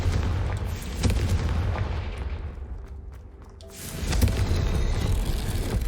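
A Confringo blast spell explodes in Hogwarts Legacy, a loud booming burst that swells into a rumbling roar, fades briefly, then erupts again with a second heavy blast near the end, with no talk.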